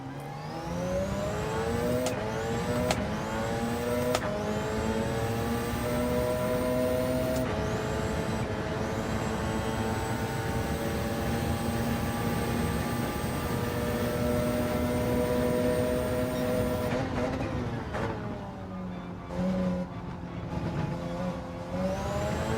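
A Porsche hybrid race car lapping Monza in Gran Turismo 7, a loud continuous engine whine climbing through the gears with several sharp upshifts, then dropping away on deceleration near the end.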